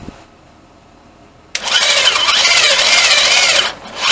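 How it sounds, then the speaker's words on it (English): A Mitsubishi 4G64 2.4-litre engine in a Lancer cranks briefly on the starter, then fires and revs with a loud, raspy roar for about two seconds before dropping back. "I'm just going to touch the starter with some power and hopefully that starts it up."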